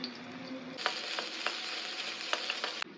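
Spring onions hit hot oil in a pan for chicken manchurian and burst into a loud, steady sizzle, with a few sharp clicks of stirring scattered through the frying.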